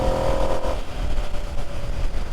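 A 2025 Ducati Panigale V2S engine lugging at low revs on the road, a low steady rumble mixed with wind noise, with a brief tonal hum at the start.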